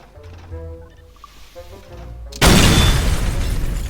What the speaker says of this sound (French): Il y a des explosions.